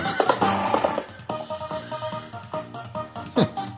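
A horse neighing effect plays in the Lightning Cash slot machine game over looping electronic casino music, with a clear whinny near the end amid rhythmic clip-clop and jingling tones, and no talking.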